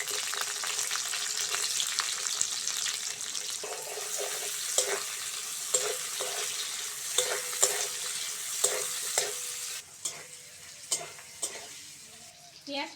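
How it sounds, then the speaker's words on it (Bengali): Chopped onion fries in oil for a chicken curry, a bright steady sizzle broken by repeated louder spatters and stirring strokes near the end. "পেঁয়াজটা হালকা করে ভেজে নিয়েছি"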